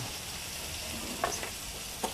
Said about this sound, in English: Want a nice sizzle to it.